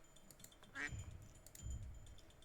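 Ducks quack in a video game, with a short nasal call and a couple of low, soft honks standing out above a steady hum of game ambience.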